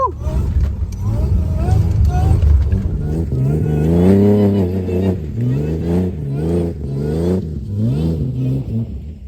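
A Toyota Hilux with an L67 engine swap revs and accelerates in mud pits, the engine note rising and falling loudly while voices talk over it.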